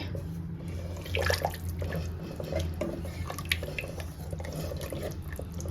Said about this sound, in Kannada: ಜಾರಲ್ಲಿ ಇದ್ದಿದ್ದಂಥ 1 ಗ್ಲಾಸ್ ನೀರು ಸೇರಿಸ್ತಾ ಇದ್ದೀನಿ